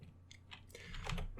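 Typing on a computer keyboard, a few soft, quick key taps close by, faint and spread unevenly over a brief moment.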